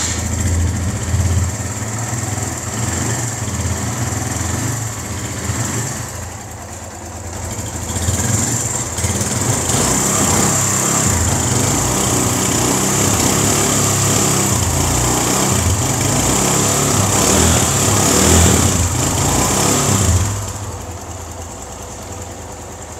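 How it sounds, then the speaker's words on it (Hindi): A Suzuki GS 150 motorcycle, a 2019 model converted into a cruiser, runs with its engine close by, giving a steady, loud, buzzing drone with a brief dip midway and a slight fall-off near the end. "एक एक स्ट्रोक आपको यानी पता चलता है मोटर बाइक का"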